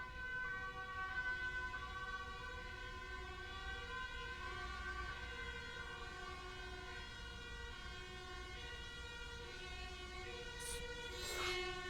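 A steady wailing siren with sustained, layered tones drifts continuously in the distance, fairly faint, with a brief higher burst near the end.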